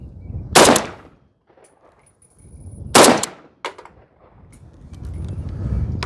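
Yugo underfolder rifle firing single semi-auto shots, two sharp loud cracks about two seconds apart, followed by a short metallic clink and a lingering outdoor rumble.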